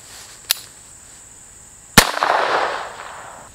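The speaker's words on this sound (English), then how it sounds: "the first thing we're gonna be shooting is the 22 at the tires" A .22 rifle fired at a tire outdoors: two sharp, loud single cracks about a second and a half apart, the second followed by a brief scattering rumble or debris noise as it fades.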